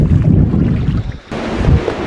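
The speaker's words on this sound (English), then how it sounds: "the ridiculous wind that is in Iceland" Loud, gusting Icelandic wind batters the microphone in a constant low roar, briefly dipping before surging again.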